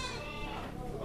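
A Javanese Randu or Boer cross goat bleats in a long wavering call, close and fairly loud against farm background noise, with faint voices nearby.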